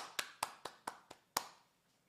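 Six sharp, separate claps ring out at an uneven pace, close and fairly quiet, celebrating an Incheon Gyeyang centre's new bookbinding machine, with the last clap decaying into a short tail.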